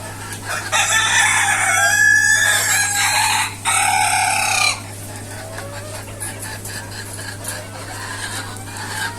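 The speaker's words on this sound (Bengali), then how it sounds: "আর এই যে এইখানে মুরগিগুলো দেখতেছেন" Native hens and roosters on a hot-weather poultry farm fill the air with loud, close clucking and a long crowing call, then settle into softer scattered clucks over a steady low electrical hum.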